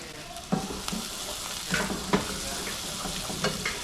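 Butter and flour roux for fish chowder cooking in a pot, with a steady sizzle under repeated scraping stirs of a utensil against the pot.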